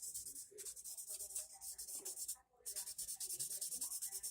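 Fine 2000-grit sandpaper rubbed by hand over a surface, a steady back-and-forth scratchy hiss in quick close strokes, with one brief pause midway.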